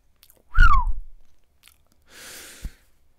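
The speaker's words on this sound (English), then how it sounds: "I'm whistling" A single short whistle sliding downward in pitch from a freediver, followed after a pause by a soft breathy rush of air.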